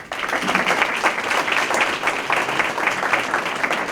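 Audience applauding volunteers of a road safety action committee and financial partners at a community recognition celebration, steady dense clapping from a crowd throughout.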